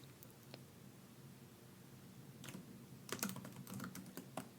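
Soft typing on a computer keyboard in a quiet room, light scattered keystrokes building into faster clustered taps, close and gentle.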